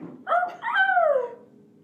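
A voice imitates a DMX-style dog bark with two rough, drawn-out bark-growls, the second longer and falling in pitch, loud and close with no other sound.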